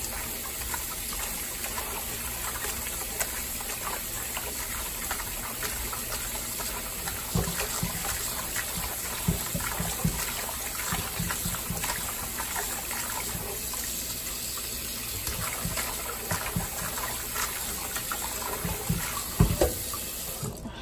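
Tap water runs steadily into a kitchen sink while raw chicken gizzards are washed, a continuous close hiss and splash with intermittent handling clatters and sloshes throughout.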